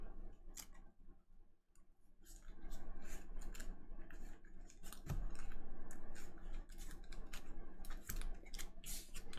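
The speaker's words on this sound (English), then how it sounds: "Gotta shuffle things up to make that happen." Cards from the DC deck-building game being shuffled, a run of quick crisp riffling and flicking close by with short pauses between bursts, no voices.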